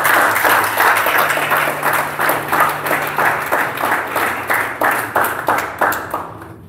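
A church congregation claps together during a sermon, steady rhythmic applause of many hands that holds an even pulse throughout and fades slightly at the end.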